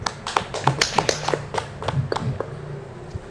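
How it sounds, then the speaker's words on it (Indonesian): A small classroom group claps for the first group after its presentation, a brief, fairly close patter of scattered hand claps lasting a few seconds. "kita kasih aplaus dulu untuk kelompok 1"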